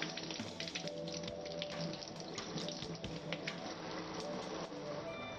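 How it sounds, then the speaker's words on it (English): Tap water runs steadily while beets and kale are rinsed under it in a kitchen sink. The flow is a constant hiss with faint splashes and handling noises, and a quiet voice is partly audible beneath it. "Just give it a nice rinse."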